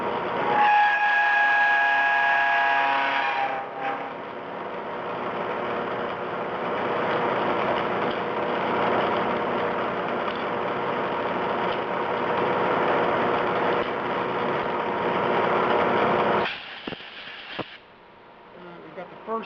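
A milling machine cuts a port into a muzzle brake, giving a loud, steady grinding and whirring roar that holds for about sixteen seconds before cutting off, with a brief squeal at the start.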